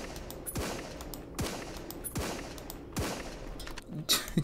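Video game shotgun blasts fire in a steady rhythm, four heavy booming shots about a second apart, loud and close, with a sharper burst at the end.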